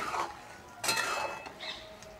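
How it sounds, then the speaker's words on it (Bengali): Raw mango pickle mixed with salt and black salt, stirred with a spatula in a pan, soft scraping and a few light metallic clinks, close but quiet, no talking. "আর একটু নেড়ে চেড়ে নেবো এভাবে"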